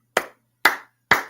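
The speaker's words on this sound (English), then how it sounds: "Let's have a round of applause" Three sharp, separate hand claps spaced about half a second apart, each crisp and close with a quick decay into silence, standing in for a round of applause.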